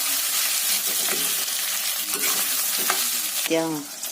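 Pork sizzles steadily in a frying pan as potatoes are added, with intermittent scraping and stirring sounds over the constant hiss.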